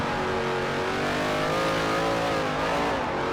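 A V8 Supercar in Forza Motorsport 4 roars steadily at high revs around a race track, a loud, continuous engine drone that shifts pitch slightly, with no voices.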